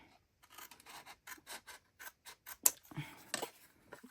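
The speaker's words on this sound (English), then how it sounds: "I'm going to cut these off though" Scissors snip through craft paper for a paper-arts gift box in a quiet room, making a run of soft, close, separate cuts with a brief rasp at the end.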